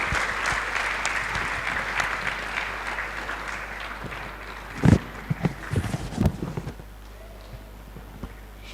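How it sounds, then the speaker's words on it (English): Audience applause for the panelists at a mentorship and cancer awareness event, a steady broadband patter that thins out after about four seconds, followed by a few scattered louder claps and thumps before fading. "Please, a round of applause for our panelists."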